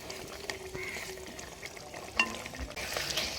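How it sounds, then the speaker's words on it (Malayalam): Curry leaves stirred into a pan of tender coconut kurma, with a soft steady sizzle under scattered scrapes and clinks of the spoon, close and moderately quiet, with no talking. "ഇതിലേക്ക് നമുക്ക് കുറച്ച് കറിവേപ്പിലയും കൂടെ ചേർത്തിളക്കി കൊടുക്കാം"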